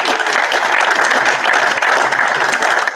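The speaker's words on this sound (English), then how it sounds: "So warm opening applause." Warm, sustained applause from a conference audience at a fintech digital ID meetup, dense and steady throughout as the crowd welcomes an executive speaker to the stage.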